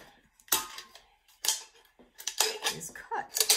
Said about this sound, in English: So I'm going to take a Coke can and my tin snips,